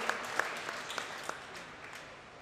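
Faint audience applause during a quiz at the Marintek 2010 event, with scattered claps spread over a soft, distant wash of clapping that tapers off.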